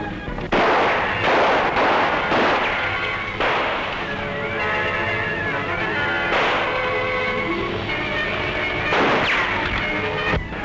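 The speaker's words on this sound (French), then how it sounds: "Ils ne tirent pas bien souvent." Scattered rifle and gunfire shots ring out in a tense armed standoff, a few sharp reports clustered early and then spaced out, with rolling echoes and a continuous rumble underneath, no voices.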